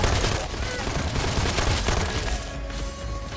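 Dense, loud gunfire in the video game Dead Island 2, with a fire-element shotgun blasting repeatedly. The shots run together into a continuous roar with little pause between them.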